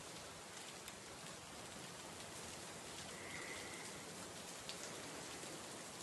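Soft, steady rain hiss falls continuously near a small church and graves in the indie video game Stary, faint and even without pauses.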